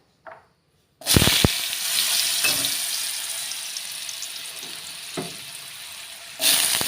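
Potato pieces and curry leaves hit hot oil with a sudden loud sizzle that settles into a steady frying hiss, with a few clinks and a fresh burst of sizzling near the end.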